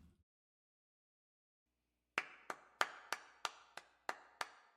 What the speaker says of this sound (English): The sound of applause jolts me out of my seat.